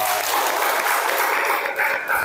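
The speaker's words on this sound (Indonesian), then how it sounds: "Tepuk tangan dong" A short burst of applause breaks out in a classroom after a student presentation on computer networking, brisk and fairly loud clapping filling the room for a couple of seconds.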